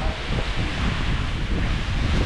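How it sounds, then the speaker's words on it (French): Wind gusting outdoors, a steady loud broadband rush buffeting the microphone with no voices over it. "Ça va, il y a un peu de vent."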